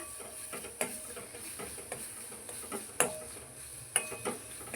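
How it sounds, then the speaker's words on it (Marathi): Masala for kharda chicken stirred and fried in a pan, a quiet background sizzle broken by light, irregular clicks and taps of a spoon against the pan. "व्यवस्थित हलवून घ्यायचं आहे हा सगळा व्यवस्थित फ्राय करून घ्यायचा आहे मसाला"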